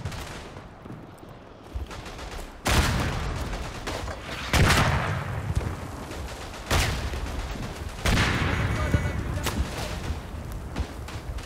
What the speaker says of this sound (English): Calling mortar just behind the salience.